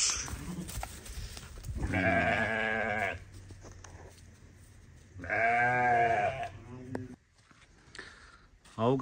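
Afghan lambs and sheep bleat in two long, loud, wavering calls a few seconds apart, with fainter farmyard noise and shorter bleats between them and a brief cry at the end.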